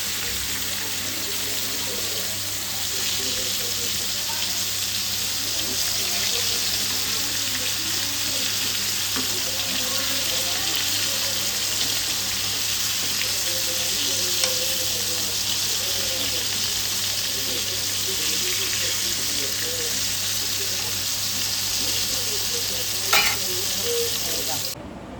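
Bombay duck fish frying in oil, a long, steady, fairly loud sizzle with faint spattering pops and a brief clatter near the end, continuous and close, without talk.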